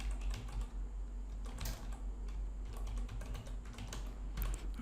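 Quiet typing on a computer keyboard, irregular bursts of soft key clicks with brief pauses between them, close by and with no voices.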